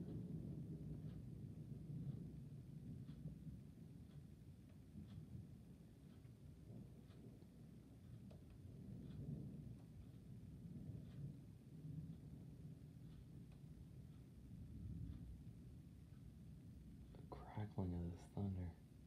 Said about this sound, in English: Of this thunder.